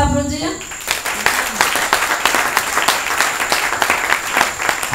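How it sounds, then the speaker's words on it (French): A church congregation breaks into applause after a sermon, a brief spoken word at the start giving way to steady, fairly loud clapping from many hands that continues evenly to the end. "Est-ce qu'on peut applaudir?"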